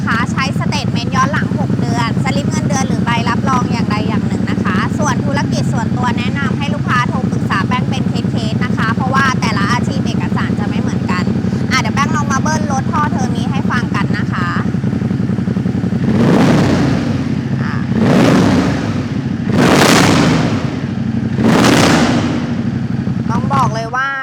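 A Ducati X-Diavel 2016 motorcycle engine idles with a deep, steady rumble while someone talks over it, then revs hard in three loud, rising bursts.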